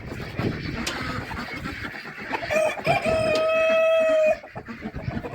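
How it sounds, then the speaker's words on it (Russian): A rooster crows once on an icy, windy winter farm, a drawn-out call that rises and holds for about two seconds. Nearby clucking and scuffling from the chickens surround it. "Петух красивый."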